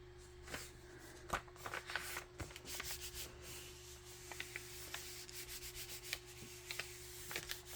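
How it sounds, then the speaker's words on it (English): Repeated soft rubbing strokes on watercolor paper, quiet and close, come in an irregular series of brief scrapes with short pauses over a low steady background hum. "Rub, rub, rub."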